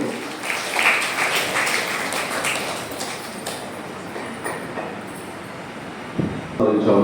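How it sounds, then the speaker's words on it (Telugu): Steady, dense clapping from a crowd at an ashram gathering fills the whole stretch, loud and continuous, briefly dipping before swelling again near the end. "చప్పట్లు."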